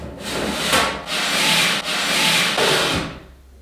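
Broad rubbing, scraping strokes of a panel from a Tristation free-standing hand sanitiser station sliding down into its slot, four sustained pushes with brief breaks between, close and fairly loud with no talk.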